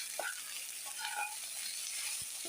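Salted food being stirred in a frying pan, with a steady faint sizzle and a few soft scraping strokes of a spatula, no voices.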